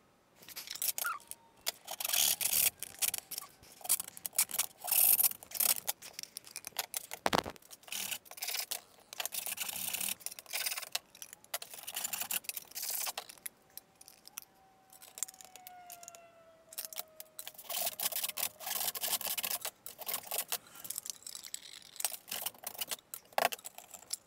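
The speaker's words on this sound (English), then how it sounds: "I'm now going to cut the side of the tin with a hacksaw to allow room for the neck." A hacksaw cuts into the thin metal side of a film tin, its rasping strokes coming in irregular bursts up close, with a brief thin whine rising through the middle.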